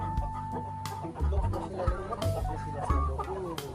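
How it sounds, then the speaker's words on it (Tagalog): Chickens cluck close by in a backyard, giving a steady stream of overlapping clucks and short calls at moderate loudness. A brief voice can be heard among them. "Hi chickens!"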